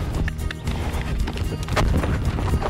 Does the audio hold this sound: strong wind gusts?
no